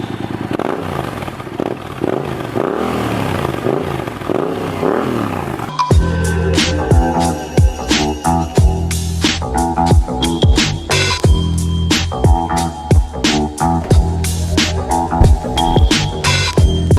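A Yamaha MT-07 motorcycle engine idles with a rumbling, pulsing note, then breaks into a series of sharp, loud revs that climb and fall repeatedly, close by.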